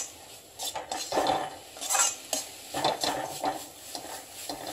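Banana stem stir-fry with grated coconut being stirred in a pan, a spoon scraping and knocking against the metal in uneven bursts over a faint background sizzle, with no talking.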